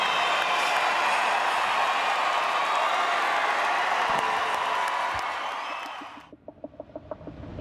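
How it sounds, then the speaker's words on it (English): A crowd at a women's boxing event claps and cheers a two-weight world champion in a loud, steady ovation that cuts off sharply near the end, leaving a few faint taps and quiet sounds. "What a reception from the crowd."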